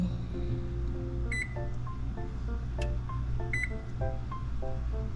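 A series of short electronic beeps as buttons are pressed on an appliance panel, followed by a brief confirming chirp, over a low steady hum.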